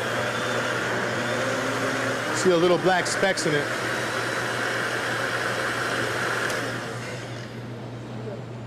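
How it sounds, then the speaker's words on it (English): A blender whirs steadily, mixing ceviche sauce with Heinz 57 ketchup as a sustained, fairly loud motor hum. A voice speaks briefly over it before the whirring eases toward the end. "turn on the blender here, make the sauce"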